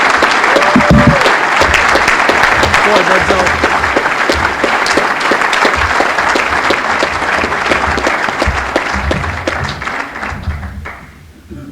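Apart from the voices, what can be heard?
audience applause at ceremony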